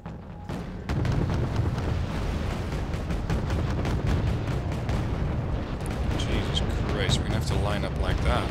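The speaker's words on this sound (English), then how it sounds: "Look at the artillery coming in." Incoming artillery barrage in the real-time strategy game Wargame: Red Dragon, a continuous rumble of loud booms and blasts rolling on throughout, with someone talking over it.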